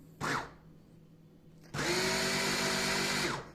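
A brief motor whir, then a loud, steady high-pitched machine drone of a lidded kitchen chopper churning cream into butter for nearly two seconds before cutting off.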